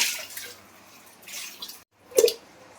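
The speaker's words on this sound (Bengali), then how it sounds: "আলুগুলো একটু ধুয়ে নিই।" Potatoes are rinsed by hand in water, with bursts of splashing and sloshing near and fairly loud, a short silent gap, then a final louder splash and drip.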